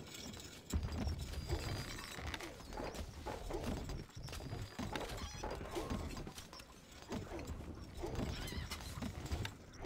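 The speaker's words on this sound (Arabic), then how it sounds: "الحصان سريع." In the Stronghold: Crusader video game, a horse gallops with rapid clip-clop hoofbeats and lets out neighs over a busy, quiet game soundscape.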